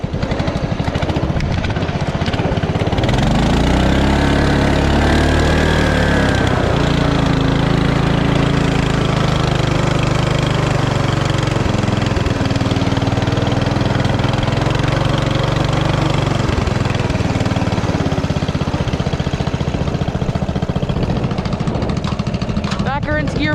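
A tractor mower engine runs loud and steady in gear, a continuous rough drone with a low, throbbing rumble that holds throughout.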